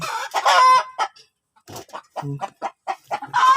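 A hen clucks in short repeated bursts while being stroked before her eggs are collected, close and fairly loud, with quiet gaps between the calls.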